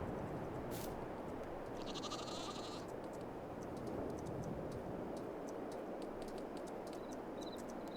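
Sheep bleating in the Farming Simulator 22 farm game, a few soft calls over a steady hiss of ambient noise, with faint ticking sounds scattered throughout.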